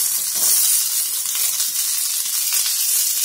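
Garlic, small onions and mint sautéing in hot oil for a goat head curry, a steady bright sizzle and crackle that holds close and loud throughout with faint stirring and no talk.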